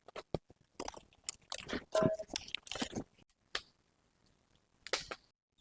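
Someone chews chicken roasted in banana leaf over fire, making close, wet, crunchy bites in irregular bursts with short pauses between them.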